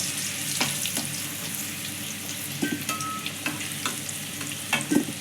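Potatoes seasoned with salt and turmeric sizzle as they fry golden-red in hot oil. A spatula scrapes and stirs the pan in repeated strokes over a steady, close frying crackle.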